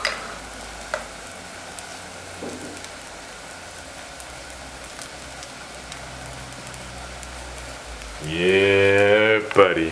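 A steady, rain-like sizzle of a vegan egg mixture frying in a pan runs throughout, joined near the end by a brief burst of louder, tonal voice.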